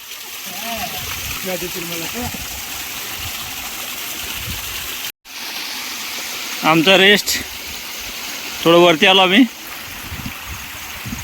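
Monsoon rainwater rushes steadily down a forested trail to Tung Fort near Lonavala, a constant close wash of flowing water with hikers talking over it in short bursts.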